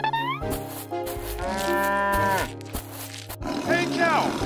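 Cattle moo loudly and repeatedly on a farm, long drawn-out bellowing calls with harmonic overtones, several in succession close by, with talking-animal voices mixed in.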